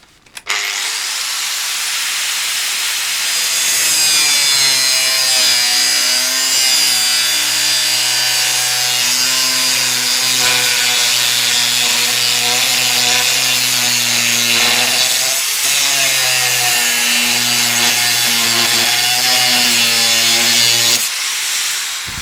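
A steady, continuous grinding whine of a corded DeWalt DWE4217 125mm angle grinder cutting, loud and sustained for about twenty seconds with slight pitch dips, no talking.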